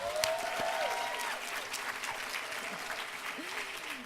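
An audience at a university department's 50th anniversary event gives a sustained round of applause, with a steady wash of clapping and a few faint voices underneath.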